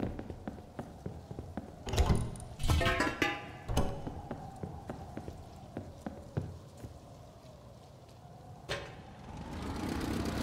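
A sulfur quarry machine in the video game Rust runs with a steady low mechanical drone and a regular series of clicking knocks, broken by a few louder clanks and thuds.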